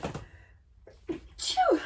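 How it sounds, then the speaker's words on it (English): A single sharp sneeze bursts out near the end after a quiet pause, close and fairly loud. "I'm going to sneeze."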